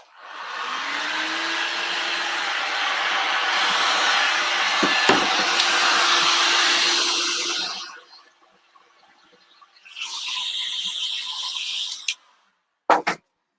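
A heat gun blows hot air to soften Woodubend bendable wood trim around the corners of a pumpkin craft, giving a loud steady roaring hiss for about eight seconds, then a shorter second blast after a pause, ending with a couple of sharp clicks.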